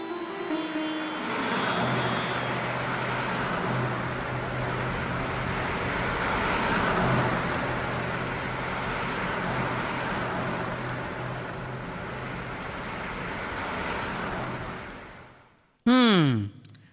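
A car being driven during a driving lesson, with steady broadband engine and road noise rumbling continuously at moderate level, wind-like hiss throughout, ending with a brief sharp sweeping tone after a short drop.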